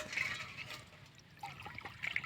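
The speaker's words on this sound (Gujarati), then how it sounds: "જો આ પાણીનું બોગરું છે, પાણી ઠલવાય છે વેટકામાં" Water from a farm water pot poured into a smaller vessel during a drink break in a cotton field, a soft, close trickle and splash that swells at the start and again near the end.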